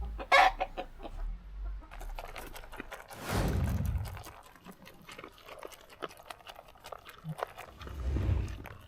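Free-range chickens and roosters cluck in short scattered calls at moderate distance, with a brief louder squawk at the start, over rustling and wind noise.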